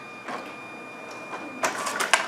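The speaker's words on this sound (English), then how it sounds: "The printer will take the card and will begin cleaning the rollers within the card printer." An NXTElite card printer cleaning its rollers with a cleaning card, giving a faint mechanical whir with soft clicks and a burst of louder rolling, feeding noises near the end.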